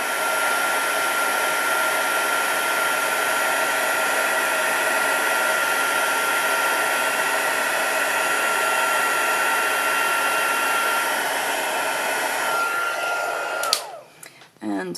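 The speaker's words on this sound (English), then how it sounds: "I saw a bit of embossing powder blow off just as I was applying the heat gun" A heat gun blows steadily to melt embossing powder on watercolour paper, a constant close airy whoosh with a whining hum that runs without break, then cuts off abruptly near the end.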